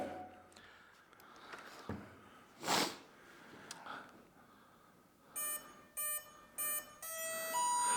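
Electronic speed controller of a Freewing F-8 Crusader 64mm EDF RC jet on 3S power gives a series of short, quiet beeps after being plugged in, following some handling noises and faint breathing.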